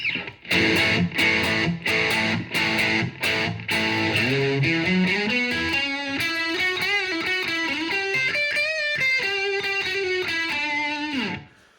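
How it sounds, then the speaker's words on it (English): A distorted electric guitar solo from a song: a few sharp stabbed notes give way to bending, sliding lead lines, loud and continuous throughout. "So then we have a guitar solo."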